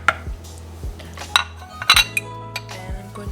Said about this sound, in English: And I'm going to scoop in my peanut butter and mix everything well together.